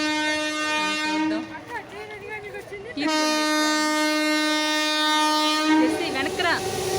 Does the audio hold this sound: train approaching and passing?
yes